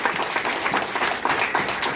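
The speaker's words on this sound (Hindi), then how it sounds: "ताली बजाएंगे" An audience at an International Women's Day celebration claps in a brief, dense round of applause, steady and fairly loud throughout.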